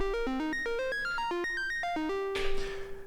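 Elektron Octatrack sending arpeggiated MIDI notes with scale quantization off: a quick run of synth tones hopping unevenly up and down in pitch, ending on one held note under a burst of noisy texture.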